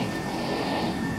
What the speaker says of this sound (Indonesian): ada kereta